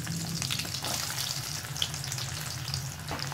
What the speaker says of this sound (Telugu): నూనె వేడైన తర్వాత ఇప్పుడు ఇందులో మనం కట్ చేసుకున్న ఉసిరికాయ ముక్కల్ని కొన్ని కొన్నిగా వేసుకొని